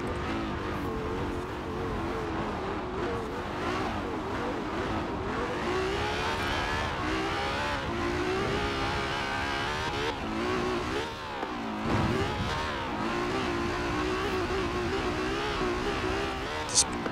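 A 2017 Ferrari 812 Superfast's engine revs steadily in Forza Horizon 4, a loud, continuous stock engine note with shifting pitch sustained throughout, a voice faintly present beneath it.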